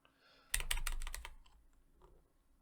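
A mechanical keyboard fitted with dark yellow Kailh switches is typed on in a quick burst of about a dozen sharp, close keystrokes lasting under a second, then falls quiet.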